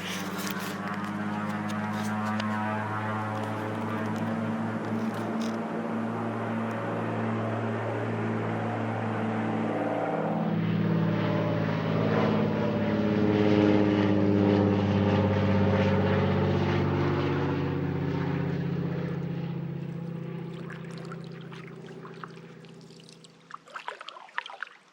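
Small propeller planes take off from a lodge across a lake, their engine drone loud and steady, swelling as they pass nearby and fading at the end, with faint water sounds close by.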